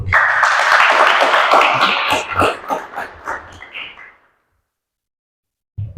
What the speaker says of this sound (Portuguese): Aplaudamos, por favor.